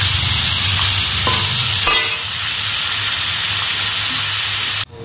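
Food frying in a pan gives a loud, steady sizzle with light stirring clicks; there is a sharp scrape near the middle, and the sizzle cuts off abruptly just before the end.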